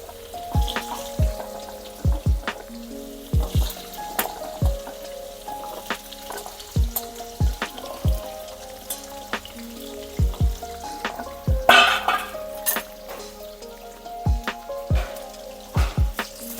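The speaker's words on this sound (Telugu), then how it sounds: "ఉసిరికాయలు నూనెలో వేసుకోవాలి" Indian gooseberries (amla) frying in hot oil, a steady crackling sizzle punctuated by sharp repeated pops and spits, close and fairly loud, with no voices.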